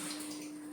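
Water poured into bonda batter in a kitchen, a steady continuous splashing rush that fills the whole brief moment, close and fairly loud.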